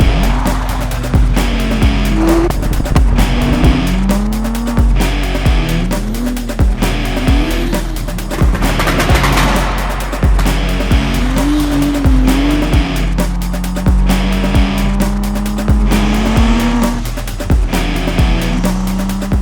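An Audi B5 RS4, an older tuned car, drives hard with repeated tire squeal as its engine note rises and falls, loud and close throughout, with no talk over it.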